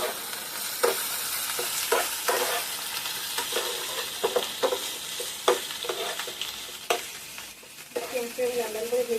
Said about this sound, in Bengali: ভালো করে পেঁয়াজটাকে লাল লাল করে ভেজে নেব।